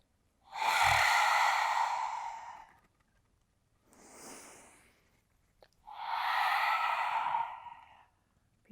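Two long, audible breathy exhales during a vinyasa yoga flow, separated by a softer, shorter breath, each sighing out slowly and close with no talking.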